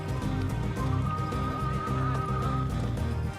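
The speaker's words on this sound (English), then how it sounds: "But Caramello, that's my horse's name, behaved herself, despite having a nervous wreck clinging to her back" Horse on a countryside ride in Cuba whinnying loudly while hooves keep up a steady, rhythmic clip-clop close by.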